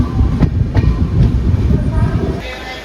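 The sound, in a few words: Yesvantpur Weekly Express train at Kuppam railway station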